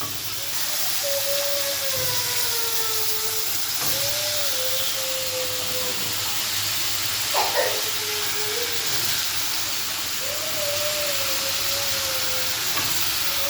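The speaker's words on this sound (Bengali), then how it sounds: "ডাটা বেগুন সিম সব দিয়ে দিয়েছি আমার মশলাটা কষানো শেষ তাই সবজিগুলো এখন দিয়ে দিচ্ছি" Drumstick, eggplant and beans fry in cooked spice paste, giving a constant close hiss with a few thin whining tones drifting through and a brief clatter midway.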